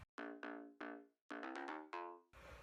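A synth layer recreating the sound of a song: a quick run of bright, plucky notes in an uneven rhythm, ending with a short hiss of noise.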